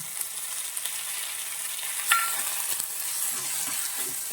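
Prawn roast masala with tomato sautéing in a pan, a steady moderate sizzle punctuated by a few spatula scrapes and a sharp clink midway, heard close without any talking.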